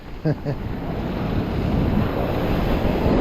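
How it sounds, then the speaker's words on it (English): Surf washes up onto a beach during metal detecting, building into a steady broad rush that swells and holds loud, with wind noise on the microphone and a brief voice-like sound near the start. "Oh, here comes a wave."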